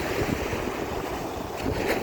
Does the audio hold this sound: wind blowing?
yes